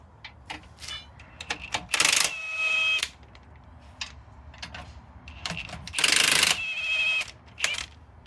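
Ratcheting wrench work on the ball joint bolts of a Skoda Octavia Mk3, rapid metallic clicking in short bursts with pauses between, heard close.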